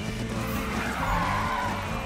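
A Lamborghini drifting in the Need for Speed video game, its tyres screeching in a sustained skid over a roaring engine, loud and continuous.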